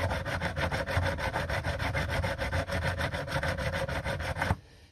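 Steady back-and-forth rasping of a file cutting band grooves into a wooden catapult frame, close and loud, in a brisk even rhythm of strokes that stops abruptly just before the end.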